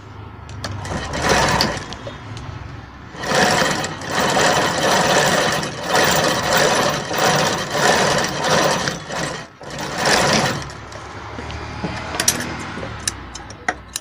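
A sewing machine stitches an invisible zip into a blouse, its motor running in several loud, steady bursts separated by short pauses.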